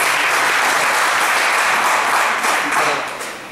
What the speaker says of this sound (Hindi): तालियों से स्वागत है आपका